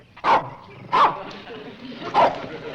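A dog barks in loud, sharp single barks, four of them at roughly one-second gaps, close by in an indoor scene from a vintage TV sitcom.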